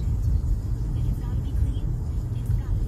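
Car driving along a road through a residential district, a steady low road rumble and engine drone from inside the vehicle, continuous and moderately loud.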